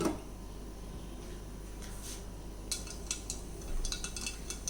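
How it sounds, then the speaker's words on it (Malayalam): Half a spoon of mustard seeds spluttering in hot oil in a pan: a quiet, steady background gives way to scattered sharp crackling pops in the second half, close and fairly soft, with no talking. "കടുക് പൊട്ടിയിട്ടുണ്ട്"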